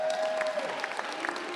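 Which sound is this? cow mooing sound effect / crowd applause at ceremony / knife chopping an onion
crowd applause at ceremony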